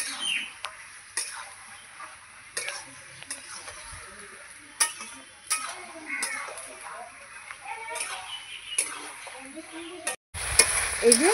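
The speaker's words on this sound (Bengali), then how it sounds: "এবার ভালো করে নাড়াচাড়া করে নেব, করে এবার মশলাটা মাংসের সঙ্গে আমি ভালো করে কষাবো।" Meat with spice masala sizzles and is stirred in a pan, with repeated sharp scrapes and clatters of a spoon, faint birdsong in the background and a louder burst of handling at the end.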